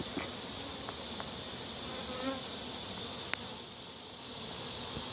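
Honey bees swarm and buzz in a dense, steady drone around an opened hive, close and continuous throughout, with a brief tool click partway through.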